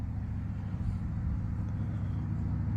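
McCulloch Pro Mac 60 chainsaw fitted with a Husqvarna bar, engine running steadily with a loud, continuous low drone and no clear revving changes.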